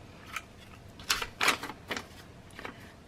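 A corner-rounding punch clips the corners of a sheet of paper during a craft project, a few short, sharp snips and clacks with paper rustling between them, close and fairly quiet.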